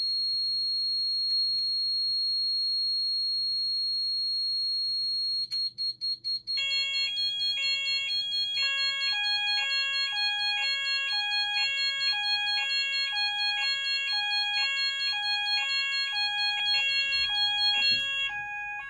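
A Kentec Syncro fire alarm panel with Apollo detectors sounds during a system test, entering pre-alarm: a steady high electronic tone, then a repeating pulsed multi-tone alert pattern that keeps cycling loudly, with no voices.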